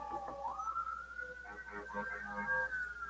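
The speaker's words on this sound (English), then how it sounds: "There comes the sirens." A fire station's emergency vehicle siren wails as it passes, a continuous rising and sustained tone at moderate distance with no voices.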